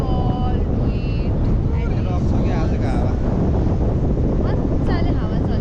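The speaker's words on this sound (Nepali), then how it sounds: "मजाले हावा चलिरहेछ. अलिअलि प्रब्लम क्रिएट गरिरहेछ." Strong wind blows straight into the microphone outdoors as a constant, loud, rumbling buffet. A voice talks over it throughout.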